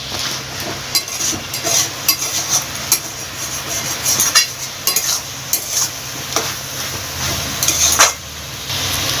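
Bottle gourd and spinach stir-frying in a pan: a steady sizzle with repeated scraping and stirring strokes of a spatula against the metal, close and fairly loud, with no talking.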